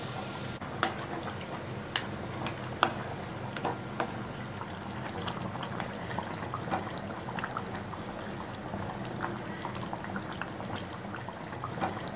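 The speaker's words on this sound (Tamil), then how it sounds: "நான் தேங்காய் பால் சேர்க்குறேன்" Coconut milk pours and bubbles into a hot pan of country chicken fry, a soft continuous sizzle with small pops and clicks throughout, fairly quiet.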